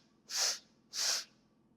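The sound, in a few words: inhaling through the nose in three stages, breathwork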